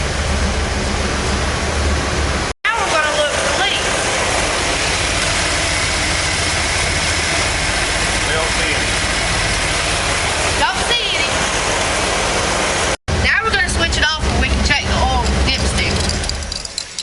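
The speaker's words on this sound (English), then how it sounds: "Now we're going to start the engine." A car engine rumbles steadily at idle during an oil change, close and continuous, with a couple of brief dropouts and some clattering near the end.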